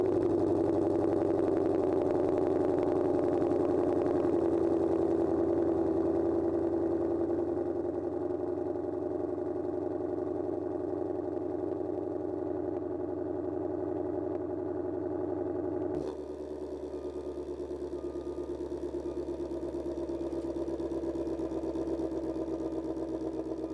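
A 2020 Ford Shelby GT500 Mustang's supercharged V8 rumbles at a steady, deep idle after starting, settling to a lower, quieter burble partway through, with no talking.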